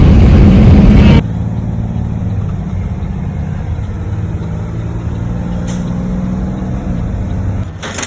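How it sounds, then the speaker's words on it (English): Steady low engine drone of a tow truck hauling a car early in the morning, loud and close, with a burst of wind or road rush at the start and a brief hiss near the end. "we're getting our car towed"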